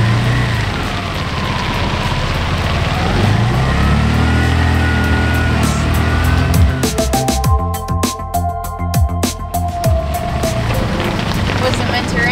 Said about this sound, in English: It wasn't meant to rain today.